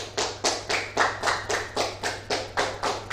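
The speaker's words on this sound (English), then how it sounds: "A virtual applause, please." Slow, evenly spaced claps of roughly ten beats sound through a steady low hum, offered as a virtual round of applause for the school principal at a high school's online moving-up and graduation ceremony.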